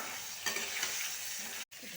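Sliced eggplant frying in oil in a wok, a steady close hiss of sizzling with light stirring strokes, fairly quiet and unbroken apart from a brief gap near the end, no speech.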